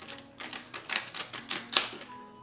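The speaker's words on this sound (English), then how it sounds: "So, you shuffle your cards." A tarot deck, combining the Mermaid Tarot and the 19th Century Tarot, being shuffled by hand: a quick run of crisp card riffles and flutters, close and fairly quiet, with no talk.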